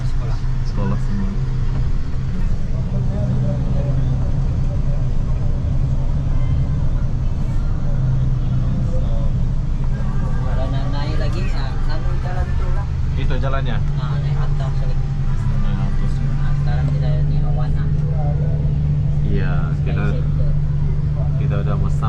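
Inside a bus traveling from KL Sentral up to Genting Highlands in Malaysia, a steady low engine hum and road rumble throughout, with passengers talking and some clatter in the cabin.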